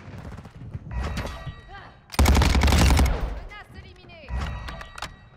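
Video-game weapon fire, with short bursts of gunshots and one long loud volley in the middle, mixed with a speaking voice and game sound.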